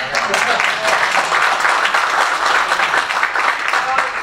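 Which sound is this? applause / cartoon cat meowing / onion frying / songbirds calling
applause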